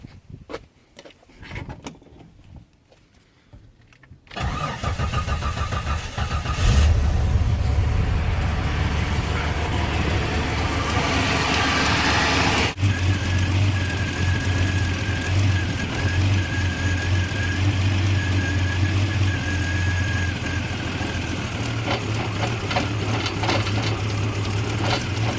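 A Jeep 4.0L Renix stroker engine fitted with upgraded fuel injectors cranks and catches, then settles into a steady, loud idle with a rough low rumble that continues for about twenty seconds.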